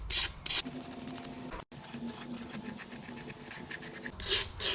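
A scraper is pushed steadily across a 2.0 TFSI engine block to strip off residue, giving a continuous close-up rasping scrape in short repeated strokes with one brief pause.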